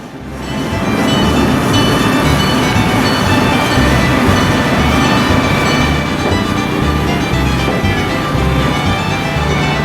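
A train runs on the Hobo Railroad in Lincoln, New Hampshire, giving a loud, steady rumble with rhythmic low thumps from the wheels throughout, heard alone without voices.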